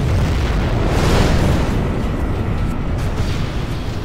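Scud Storm missile strike explosions in Command & Conquer Generals Zero Hour, a sustained loud roar of overlapping blasts and rumble that swells and then slowly fades.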